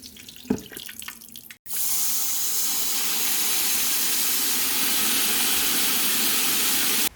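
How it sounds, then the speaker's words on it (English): A garden hose fills an outdoor tank with water. A sudden loud rush of spraying water cuts in after a short, quieter moment of handling and then pours on steadily, hissing and unbroken. "I can go ahead and grab the hose and just fill it up with that"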